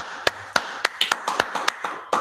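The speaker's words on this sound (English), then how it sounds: "let's clap it up" A handful of people at a biblical law class clap in irregular, sharp hand claps, about ten distinct strikes spaced unevenly, fairly close and crisp.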